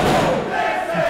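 A wrestling event crowd cheers loudly in a short, dense burst of roaring voices that fills the arena.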